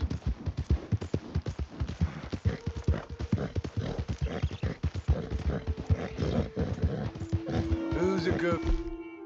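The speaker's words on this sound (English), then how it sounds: "Who's a good horse?" Horse hooves clip-clop in a steady, fast rhythm in Red Dead Redemption 2, joined near the end by a loud, drawn-out whinny, with a voice talking over the galloping.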